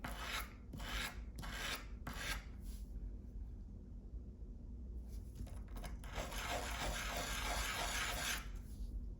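The beveled edge of a Rope Runner Pro is sanded by hand. A few short rasping strokes are followed by a pause, then a longer stretch of steady back-and-forth sanding, quiet and close, with no voices.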